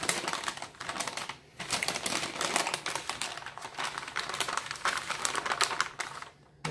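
Tape peeled off a tall skinny soap mold makes rapid crackling, ripping ticks in close, loud bursts with short pauses between pulls.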